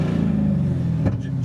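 A Cadillac CTS-V V1 engine revs loudly and close up with a sustained deep rumble, briefly rising around a second in before settling back to a steady throaty drone.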